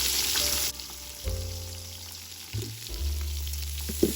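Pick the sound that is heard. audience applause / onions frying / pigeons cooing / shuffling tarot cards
onions frying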